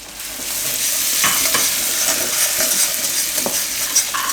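Pieces of green chili sizzle loudly in hot oil in a pot while a spoon stirs them, with scraping strokes and a constant close frying hiss.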